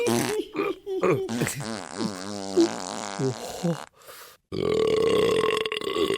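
A voice imitates a wolf belching and farting in a French children's story, with a long, drawn-out gurgling burp followed after a short pause by a loud, raspy, sustained fart.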